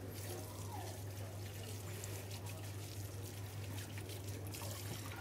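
Tap water running steadily into a kitchen sink as something is quickly rinsed off during breadcrumbing for veal schnitzel, a continuous faint splashing stream over a low hum.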